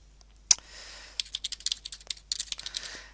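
Keys clatter on a computer keyboard while someone fills in a booking on an online scheduling site; a sharp click comes first, then a quick, uneven burst of typing at close range with no talking.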